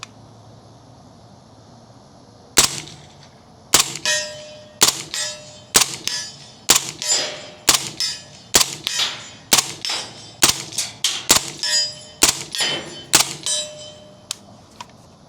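A Century AP5 pistol fitted with a B&T suppressor on its half by 28 threaded barrel through an adapter, fired in about fifteen sharp, suppressed shots with an even, steady rhythm, each followed by a short metallic ring, with no talking.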